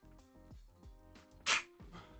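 One sharp, sudden sneeze bursts out over soft, rhythmic tonal thumps in the background.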